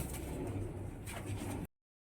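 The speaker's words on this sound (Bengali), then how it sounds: "এটা দেশি পায়রা, সাদা কালো" Black and white domestic pigeons coo softly at close range in a low, steady burble for under two seconds before the sound cuts off abruptly.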